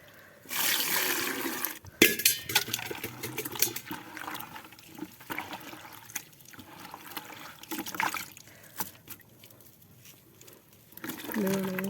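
Water is poured into a container of gram flour and jaggery and stirred in, giving wet trickling, sloshing and crinkly mixing sounds, fairly quiet, with a voice talking over much of it.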